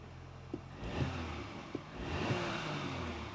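An Audi Q5 engine runs steadily at idle just after its first start following a turbocharger replacement, a close, even mechanical hum with a few brief knocks and clicks over it and no talking.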